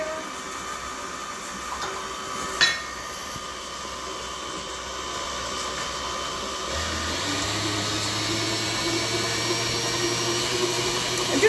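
A stand mixer with a paddle beats butter into flour, its motor drone and rattle steady and fairly loud, then stepping up to a higher, fuller whir partway through as the speed increases.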